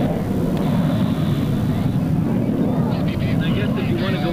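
F-104 Starfighter jet at a seaside airshow, a loud, steady, broadband engine roar that fills the whole stretch, with wind buffeting and a commentator talking over it.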